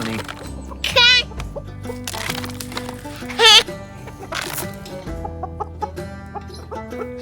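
Backyard chickens clucking in short bursts, with a couple of sharper, louder squawks standing out over a busy, low background; a person talks quietly at times.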